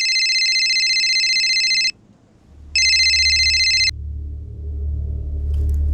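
A phone rings in two bright electronic bursts separated by a short pause, followed by a low rumbling background.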